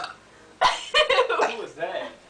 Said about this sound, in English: They're having a burping contest